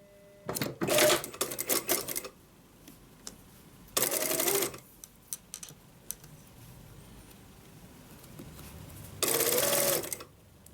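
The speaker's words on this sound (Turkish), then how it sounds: "Bir adet hiç ince ayar yapmadan gizli fermuar dikeceğim şimdi." A domestic sewing machine stitches an invisible zipper before any fine adjustment, running in three short, close, loud whirring bursts with quiet handling and fabric rustle between them.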